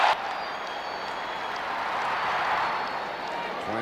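Minnesota Twins fans roar in a packed stadium during Game 1 of the 1991 World Series against the Atlanta Braves, a steady, distant crowd wash that swells slightly and holds for several seconds.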